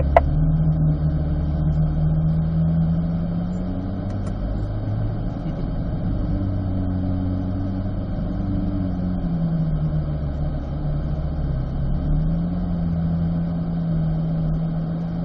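Race cars rolling out onto a track at low speed to warm their tires, a steady close engine drone with shifting low tones that hold at an even level throughout.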